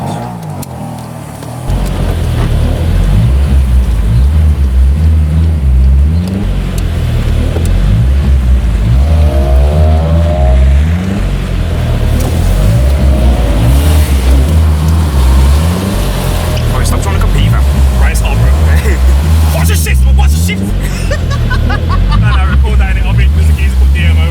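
A Ford Mondeo ST with a beefy exhaust idles with a deep, loud rumble and then pulls away, the engine note rising and swelling. People talk nearby throughout.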